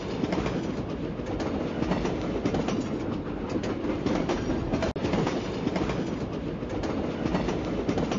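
A cartoon train rolls along tracks with steady, loud rumbling and rhythmic clickety-clack, continuous throughout with one sharp click midway and faint bird chirps.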